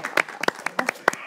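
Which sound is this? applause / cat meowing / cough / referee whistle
applause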